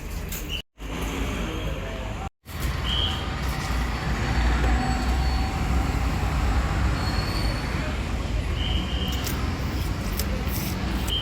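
A train rumbles past nearby, steady and loud, with high wheel squeals streaking over the roar and a couple of brief gaps early on.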